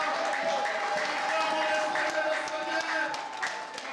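Congregation at a Pentecost church service clapping and cheering in praise, a dense, continuous wash of hands and voices filling the room for a few seconds without pause.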